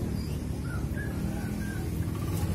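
Birds calling at a bird market in Malang: a handful of short, mid-loud chirps and caws scattered over a dense, busy market hubbub, with no speech.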